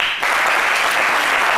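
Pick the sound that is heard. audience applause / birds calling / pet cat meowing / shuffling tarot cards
audience applause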